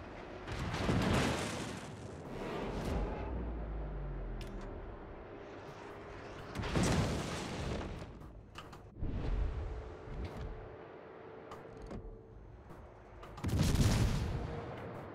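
Naval artillery fire and explosions during a World of Warships battle aboard the Molotov: three heavy, booming blasts spaced several seconds apart, with a lower rumble of battle noise continuing between them.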